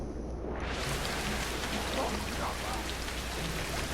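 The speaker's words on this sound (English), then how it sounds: "it's raining" Steady rain hisses down close by, a dense even patter that fills in quickly after a brief quieter opening and continues without pause.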